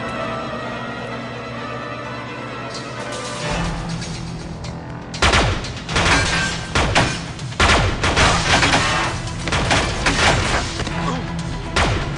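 Gunfire from the space combat video game Freelancer: after a quiet start, a dense run of loud booming shots and blasts fills the second half.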